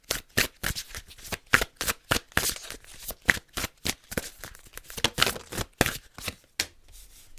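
Tarot cards are shuffled and drawn for a reading, making a rapid series of crisp, papery riffles and slaps in an irregular rhythm, close and fairly loud, with no talking.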